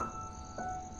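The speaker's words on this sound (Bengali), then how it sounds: "ঝিঝি পোকার ডাক।" Crickets chirp at night in a faint, continuous high trill, a thin, steady insect drone with no voices over it.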